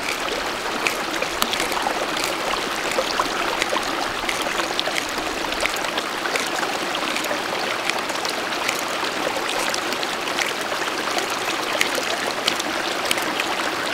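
Water runs steadily from a hand-pumped portable water filter into a container, a continuous trickling stream with fine splashy hiss, close and fairly loud, with no voices.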